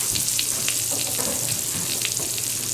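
Real butter melts in a hot pan with a steady, close sizzle and fine crackling that holds at an even level throughout.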